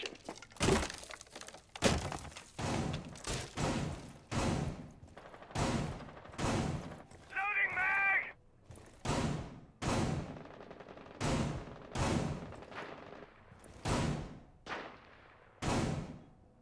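Gunfire in Rainbow Six Siege during a bomb-defusal round, loud repeated single shots and short bursts at a steady pace, with a brief electronic chirp in the middle.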